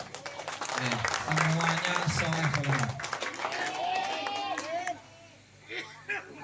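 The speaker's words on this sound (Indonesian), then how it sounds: "Tapi tepuk tangan untuk" An audience applauds for young people at an Islamic religious sermon gathering, steady loud clapping with crowd hubbub beneath a speaker's amplified voice, fading near the end.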